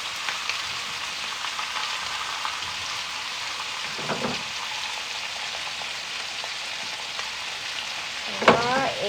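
Butter frying in a pan while cooking orzo gives a steady soft sizzle and crackle throughout, with a few brief scraping stirs and a louder clatter near the end.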